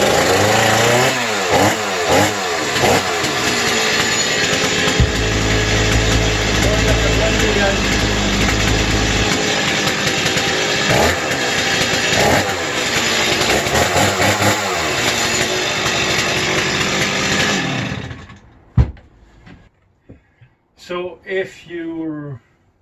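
Stihl MS260c chainsaw, repaired after an oil leak and no-start fault, starts and runs with a loud, steady two-stroke roar and revving for about eighteen seconds, then cuts out, followed by a few quieter clicks and handling noises.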